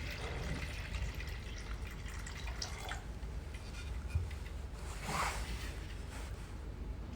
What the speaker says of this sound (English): When the water is full inside, it will come out from the water overflow hole.